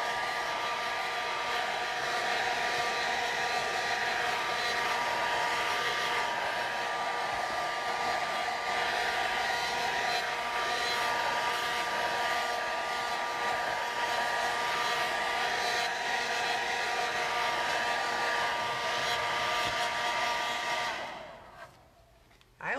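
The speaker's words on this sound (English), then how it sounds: "I always run my hair dryer on high." A hair dryer runs on high heat to dry acrylic nails, a loud, steady whooshing whine holding for about twenty seconds before switching off.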